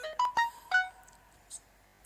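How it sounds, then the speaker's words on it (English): A short phone notification chime delivering a security verification code: a few bright tonal blips in quick succession, fairly clear and isolated against a quiet background, with a couple of faint soft ticks afterward. "So I've received the phone notification"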